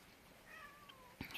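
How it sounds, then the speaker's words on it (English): A single faint cat meow drifts in from a distance over quiet background hiss, followed by a brief soft knock. "you can hear the kitty meowing somewhere"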